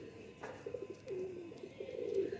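A pigeon being readied for a pigeon-flying competition coos softly, giving a few low, throaty, wavering calls that repeat close by in a quiet setting.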